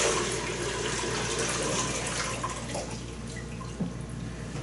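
Water pours into a container for a chicken brine on a kitchen island, making a continuous splashing, gurgling flow that eases slightly toward the end, with a small knock near the close.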